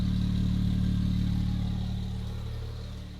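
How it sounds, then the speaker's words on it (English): A freshly rebuilt Porsche 911 Turbo engine idles steadily with a deep, even hum and light mechanical clatter, close by, easing slightly quieter toward the end with no talk. "Listen to it now. I think that noise was just because this engine itself hasn't been started in so long."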